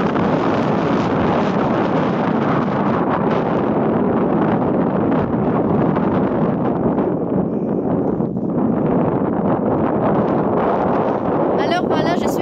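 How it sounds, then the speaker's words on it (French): Strong wind gusting across a microphone at the summit of Mont Sala on a solo hike, loud continuous buffeting roar with a short lull near the end. "le vent il est suffisamment fort"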